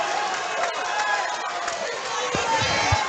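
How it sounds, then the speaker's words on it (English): A live kickboxing crowd roars steadily as the third and final round begins, a dense wash of cheering and shouting that fills the whole clip at a constant, fairly loud level. "the crowd is really into this"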